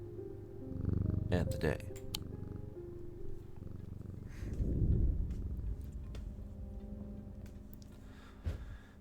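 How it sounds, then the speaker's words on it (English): A cat purrs as it is petted in the video game Strange Antiquities, a soft, low continuous rumble under a brief spoken remark and a few faint ticks. "Pet the kitty."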